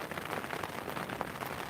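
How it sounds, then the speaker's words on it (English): Rain patters steadily on Southsea Beach at dusk during a fishing session, a dense even hiss of drops close by with no voices. "That rain's cold on my hand."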